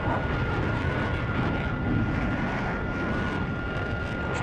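Aircraft engine drone of a bot plane flying over an airfield in War Thunder, a steady loud continuous roar with a sustained tonal whine, no talking.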